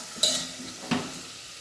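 Khichdi cooking in hot oil in a pan, with two short sharp bursts of sizzling and scraping, one early and one near the middle, over a low steady background hiss.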